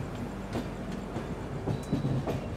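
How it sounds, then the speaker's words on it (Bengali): The Jammu Tawi Express pulls into Moradabad in the evening, with a steady rumble of rolling coaches and soft clicking wheel beats over rail joints, heard from on board at moderate level without talk. "আমাদের ট্রেন এখন মোরাদাবাদে ঢুকছে"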